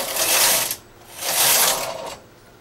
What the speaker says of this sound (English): So I have my one needle to hold in position, knit two rows, push the next one back, knit two rows